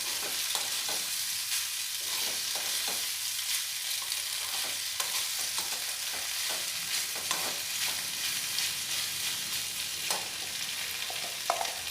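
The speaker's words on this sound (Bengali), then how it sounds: "দিয়ে আবারও নাড়াচাড়া করে মিশিয়ে নেব" Schezwan pasta stirred and tossed in a sizzling pan, steady frying hiss throughout with repeated scrapes and clinks of the spatula, close and alone.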